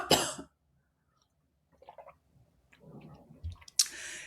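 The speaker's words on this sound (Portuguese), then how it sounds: "Espera um pouquinho que deu tosse." A single sharp cough bursts out at the start, followed by quiet shuffling and faint clicks, then another abrupt loud burst near the end, from a Portuguese-speaking speaker.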